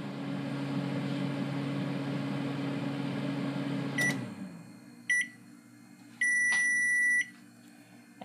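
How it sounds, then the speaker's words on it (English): A microwave hums steadily, then stops, followed by a few short electronic beeps and one longer beep tone, close and clear. "just throw it in the microwave from anywhere to 30 to 45 seconds"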